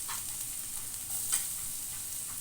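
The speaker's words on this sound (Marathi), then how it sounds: "तेल गरम झालेलं आहे हे लसून बघा मी फ्राय करून घेते" Garlic fries in hot oil for a bhindi sabzi, making a steady, soft, close sizzle with a faint stirring scrape and no talking.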